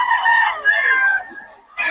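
A Lakeborn banded gamecock at a poultry market lets out a short, hoarse crow, loud and close, with the call breaking off briefly before starting again.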